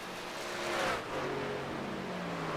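Race truck engine firing back up and revving during a Truck Series race at Kansas, a loud continuous roar that swells and eases while the engine note holds steady, without speech.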